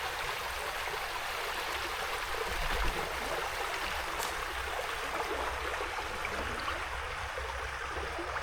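Water of the Suwannee River flowing near Big Shoals, a steady close rushing and gurgling wash that holds evenly throughout with no voices.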